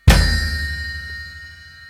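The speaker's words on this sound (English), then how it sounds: "bass drum and the low floor tom at the same time" A bass drum and a low floor tom struck together in one heavy hit, a single loud boomy impact with a metallic ring that decays slowly over almost two seconds, with no talk.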